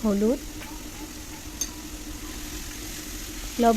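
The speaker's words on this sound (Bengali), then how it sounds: "পেস্টটা দিয়ে দেওয়ার পর একটু নেড়ে চেড়ে নিচ্ছি, ভালোভাবে ভেজে নিচ্ছি পেস্টটাকে।" Onion-tomato paste for a mushroom curry is stirred and fried in a pan, a low, steady sizzle that runs throughout, with a voice speaking briefly at the start and the end.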